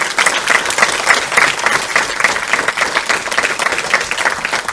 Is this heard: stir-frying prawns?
no